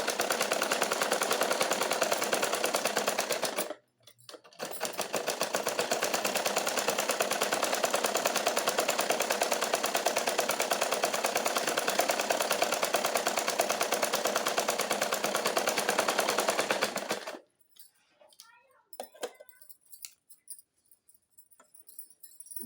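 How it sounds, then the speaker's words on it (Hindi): A sewing machine stitching a plain blouse runs in a loud, rapid, continuous mechanical rattle, stops briefly, runs on for a long stretch, then halts into near silence with a few faint clicks and handling sounds. "सिलाई लगा लेंगे ताकि मजबूती बनी रहे।"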